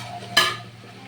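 Whole spices, bay leaf, cinnamon, cloves and green and black cardamom, hit hot oil for vegetarian paneer pulao. A single sharp burst of sizzling rises, then fades into a soft, quiet hiss.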